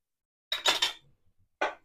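A spoon clinks and scrapes against a pan while spices such as garam masala, turmeric and chilli powder are sautéed. Two short bursts of metallic clatter are separated by a quiet gap.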